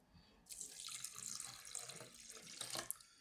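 A glass of water is poured into a blender while making masala buttermilk, a close, steady splashing pour lasting a few seconds after a brief quiet start.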